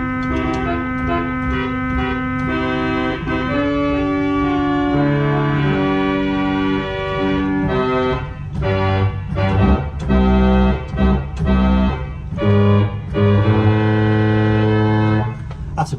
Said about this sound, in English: And finally we have a reed, which is a cornopian.